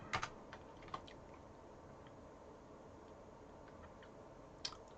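Light keystrokes on a computer keyboard, a few soft isolated taps at the start and again near the end, faint and close over a quiet room hum.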